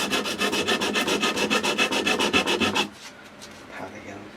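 A guitar body is hand-sanded with 120 grit sandpaper on a pad in fast, even back-and-forth strokes, close and scratchy, ending abruptly into near quiet.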